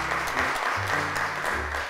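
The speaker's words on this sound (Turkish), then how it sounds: "Bükrenur'u alkışlarla çağırıyoruz" Applause from a children's TV show audience welcomes a child contestant, broad and steady clapping lasting the whole moment, with harmonic tones, likely music or a voice, underneath.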